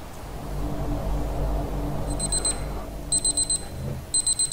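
An alarm clock in Far Cry 4 rings in short clusters of high, rapid electronic beeps, repeating three times over a low ambient rumble from the game.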